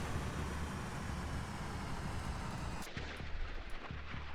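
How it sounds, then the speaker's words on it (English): Sustained roar of a missile launch in the naval combat video game Sea Power, a dense rushing blast that cuts off abruptly, followed by a few quieter thuds and pops of fire. "Missile away."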